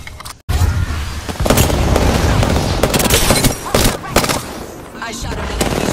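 Gunfire in the Apex Legends video game: rapid bursts of shots and sharp cracks close up, in dense clusters with brief gaps between them, loud and punchy throughout.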